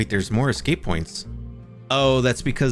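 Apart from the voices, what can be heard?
No everyday noise stands out behind the speech.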